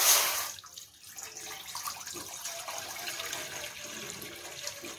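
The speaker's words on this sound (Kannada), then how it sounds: "ಸ್ವಲ್ಪ ನೀರು ಹಾಕ್ತಾ ಇದ್ದೇನೆ" Water pours and splashes into a cooking pot in a home kitchen, a steady running gush lasting several seconds after a brief louder start, with no voices over it.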